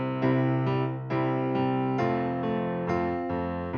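Piano chords played with the thumbs filling in eighth notes too heavily: loud, evenly repeated chord strikes in a steady pulse, each re-attack clearly audible over the ringing sustain, with no talking.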